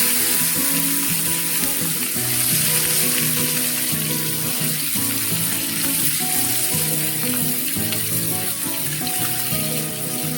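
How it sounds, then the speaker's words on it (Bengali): Chopped onions fry with garlic in a pan, giving a loud, close, continuous sizzle with stirring scrapes, and no talk over it. "পেঁয়াজটা এবার নেড়ে চেড়ে ভেজে নেবো।"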